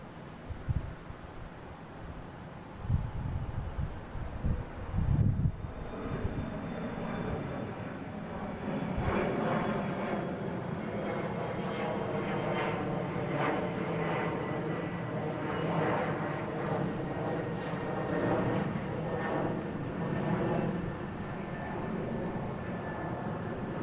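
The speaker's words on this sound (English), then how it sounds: "next taking off is Delta heading to LaGuardia. E-175" A Delta Embraer E-175 jet bound for LaGuardia takes off at Boston Logan, a few knocks and thumps giving way to a rising, sustained engine roar with a thin whine, moderately distant.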